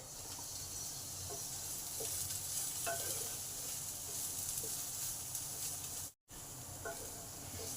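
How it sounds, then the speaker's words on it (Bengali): Snake gourd fries in a pan with a steady, close sizzle and hiss, now and then broken by faint stirring taps, with a brief dropout near the end. "চিচিঙ্গাগুলো আমার ভালোভাবে ভাজা হয়ে গেছে"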